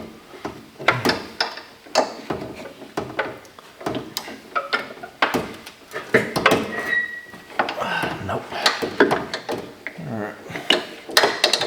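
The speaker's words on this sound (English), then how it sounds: "Now let's get our 5/8 crowfoot wrench out." A 5/8 crowfoot wrench works a nut on an RV furnace valve, giving close, irregular metallic clicks, ratcheting taps and clinks of tool against fitting, with no talking.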